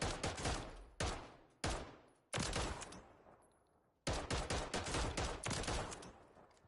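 Core 45 gunfire in a Call of Duty game: five loud bursts of rapid automatic fire, each cutting off sharply and trailing into a short decay, close and alone without talk.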